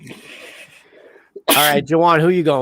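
A single sharp sneeze bursts out at a studio desk during an NFL season preview, loud and close, following quiet talk and followed by more speech.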